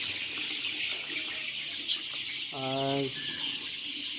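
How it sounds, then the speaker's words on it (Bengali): A hen gives a short burst of clucks against a steady background hiss, with faint scattered sounds around it, as 17-day-old Sonali chickens feed. "চারপাশ থেকে মুরগি এখন এইভাবে খাবে, উড়াউড়ি করে যে পর্যন্ত খাইতে পারে খাবে"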